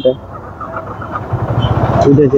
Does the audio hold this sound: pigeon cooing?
no